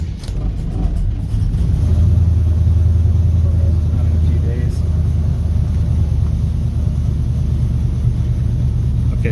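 A car engine with a newly fitted quick ratio steering box is started, then settles into a steady, loud low rumble close by for the rest of the stretch.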